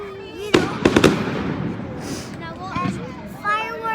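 Fireworks burst at a bonfire night event in Kirkcaldy: a quick cluster of sharp, loud bangs with crackling tails, then fainter pops, under a crowd chattering nearby.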